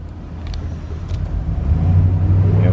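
A 1999 Chevy Express Starcraft wheelchair conversion van driving, heard from inside: a loud steady engine and road rumble that swells slightly as it moves along, no voices.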